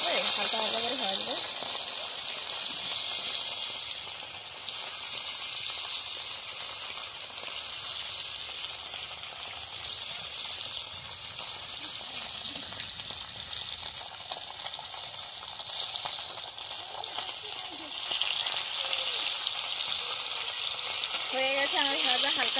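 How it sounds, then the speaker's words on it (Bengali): Kohlrabi frying lightly in a pan: a steady, close sizzle with occasional stirring scrapes that keeps going for over twenty seconds, with a voice speaking softly now and then. "হালকা করে ভেজে নিচ্ছি, টকের জন্য ওলকপি টক করবো।"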